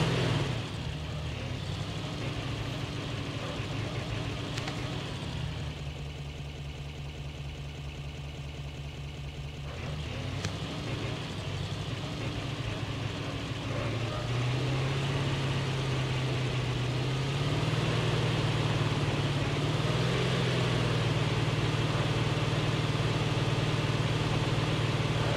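Large vehicle engine in the mobile shooter Call of Duty Mobile, a steady low idling drone that holds throughout with a slight rise in pitch partway as it revs, loud and continuous with no talk.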